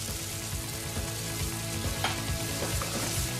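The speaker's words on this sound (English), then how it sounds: "Now, chicken stock. Bring that up to the boil and let it simmer for 3 to 4 minutes." Chicken stock bubbles and sizzles in a hot pan alongside a chicken breast, a steady close crackling simmer with occasional stirring or spoon sounds and no talking.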